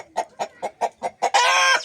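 Hens kept at home for eggs cluck in a steady run of about six short, close calls, then break into one long, loud, drawn-out squawk at the end.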